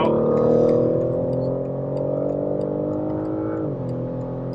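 A BMW G80 M3 Competition engine howls loudly on a hot lap around a race track, a strong steady drone that eases off and drops in pitch near the end, heard from inside the car.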